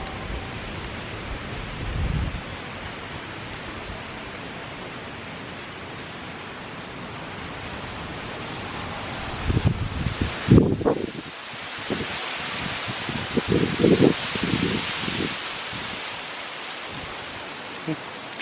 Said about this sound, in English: Yep, here comes some gusts now.